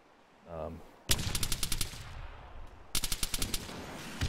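In the Arma 3 video game, two loud bursts of rapid automatic gunfire crack out one after another, with a brief low rumble before the first burst.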